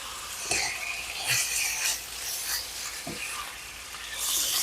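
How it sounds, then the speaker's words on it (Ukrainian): Quiet sizzling and crackling of chicken fillet strips frying in a pan, with occasional soft clinks and stirring sounds, no talking. "а поки смажиться філе"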